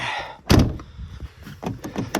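A locked door is jerked and rattled in a snowy winter setting, a loud thud followed by a few lighter knocks and clunks.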